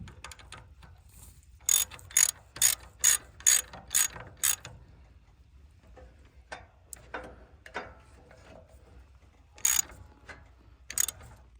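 A ratchet wrench clicks in quick bursts of rapid ratcheting while tightening bolts on a hitch mount during a 12000 lb Badland ZXR winch install, with scattered metallic knocks between the bursts.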